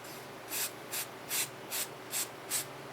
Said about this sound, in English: shoot some spray through there